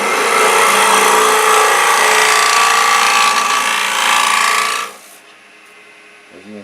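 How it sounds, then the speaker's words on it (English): Steel blade shaving a wooden spoon blank during carving, a continuous close rasping scrape lasting several seconds before stopping abruptly, followed by quiet. "we're cutting a lot of wood going by the amount of shavings"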